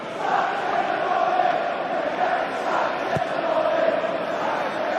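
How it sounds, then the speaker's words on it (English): Stoke City fans in a section of the football ground chant "sacked in the morning", a steady, dense roar of massed voices that holds at an even level from start to finish. "Sacked in the morning is the cry from a section of the crowd, or I'm sure it's from the Stoke City fans"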